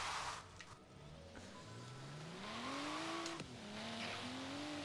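A budget sports car in Forza Horizon 3 drives uphill, its engine tone rising steadily through the gears with a shift or two, moderately loud and alone without talk.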